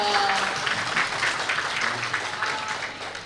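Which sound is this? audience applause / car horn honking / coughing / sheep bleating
audience applause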